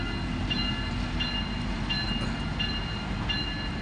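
A very long freight train rolls steadily past up close, a continuous loud low rumble with rhythmic wheel clatter and faint squealing, heading toward Canada.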